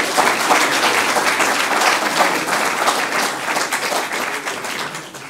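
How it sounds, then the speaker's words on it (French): An audience at an agriculture and water conference gives speaker Serge Zaka a loud, sustained round of clapping that stays dense and fades slightly toward the end. "je vous propose d'interrompre et de l'applaudir encore une fois"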